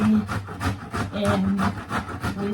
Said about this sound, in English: So this is our fennel. We are grating here.